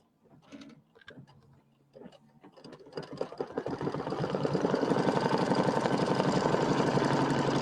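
After a few soft clicks, an embroidery machine begins satin stitching flower and pieced blocks for a pillow. It ramps up into a loud, steady, fast rattling hum that continues to the end.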